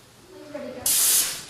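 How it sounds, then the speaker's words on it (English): Espresso machine steam wand being purged: a sudden loud, steady blast of steam hiss that starts partway through and holds for about half a second before easing off, preceded by quieter background murmur. "Purge the steam arm."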